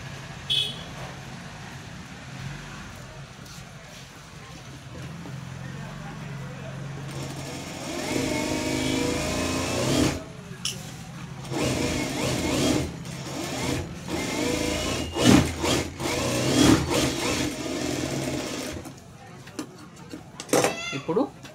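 A sewing machine runs a double line of stitching on a blouse, its motor whirring in bursts of varying length that grow louder partway through, with quiet handling noise before.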